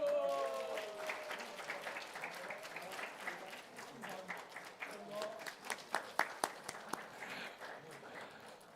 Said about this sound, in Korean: 자, 우리 뜨겁게 박수.